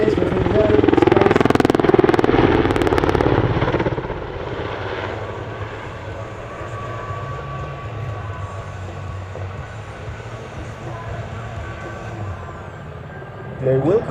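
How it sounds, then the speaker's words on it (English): Super Puma heavy helicopter performing a tight turn at an airshow in Leszno, its rotor throbbing loudly at first, then easing to a steady distant whine and drone, with a voice talking over it. "you hear the aerodynamic forces acting on the rotor"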